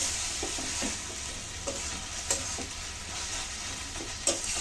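Kalai greens with potatoes cook in a pan while a spoon stirs them, giving a steady sizzling hiss with soft rhythmic scraping strokes, close and fairly quiet.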